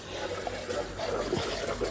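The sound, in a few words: water overflowing from tank with pump motor running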